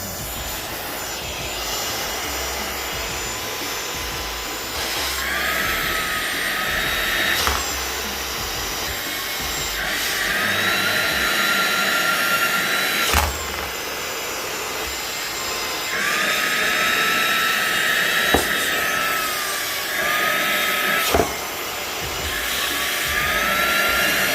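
A wireless OYLIK 2-in-1 air duster vacuum at 90,000 RPM on its highest setting, sucking up candle wax. It is a loud, steady high-pitched whine that surges repeatedly as it strains, with sharp clicks and thuds between bursts.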